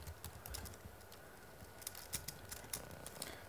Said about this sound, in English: Sorry for slow typing